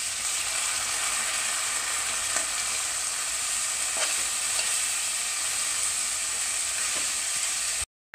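Chopped tomatoes and curry leaves fry in a pan for Kerala-style fish pollichathu, giving a steady, loud sizzle with occasional soft stirring scrapes, ending abruptly in silence.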